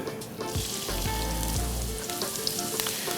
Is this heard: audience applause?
no